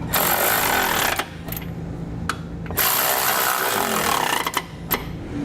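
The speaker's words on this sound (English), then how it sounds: "3/4-inch socket to snug it up" Ratcheting socket wrench with a 3/4-inch socket snugging a flange nut onto a trailer hitch receiver bolt under a 2018 Kia Sorento, heard as rapid, close, harsh clicking bursts broken by brief pauses.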